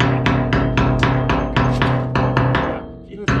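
A chipping hammer knocks slag off welds on a cracked wheel loader bucket, about a dozen sharp metallic taps in quick rhythm, close and loud, ending with one final strike after a short gap.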